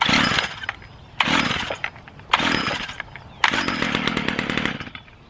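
A Stihl FS55 string trimmer engine, choke just switched off, is pulled over again and again: four loud, close bursts of buzzing two-stroke engine noise, each dying out, the last running a little longer.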